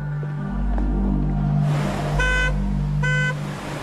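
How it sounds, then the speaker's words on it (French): Car horn honking on a roadside at night, two short loud blasts over a steady engine rumble and road noise. "Les agents chargés de la filature ont repéré une voiture avec les feux stop allumés sur le côté de la route, actionnant son klaxon."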